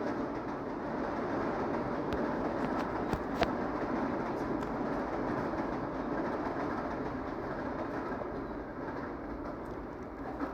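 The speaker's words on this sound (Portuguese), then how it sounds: "Está passando um trem aqui do lado." A train passes nearby, giving a low, steady rolling rumble with faint clicking from the rails and a few birds chirping in the background. Nobody speaks.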